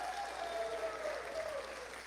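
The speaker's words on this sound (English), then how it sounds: "One more round of applause for the great Julie" A crowd at an election night speech for Senator Sullivan applauds in a continuous, somewhat distant wash of clapping, with a faint tone running underneath.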